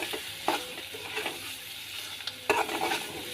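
A spatula stirs black roasted shrimp curry with coriander leaves in a pan, giving repeated close scraping strokes with sharp clanks against a low, steady sizzle.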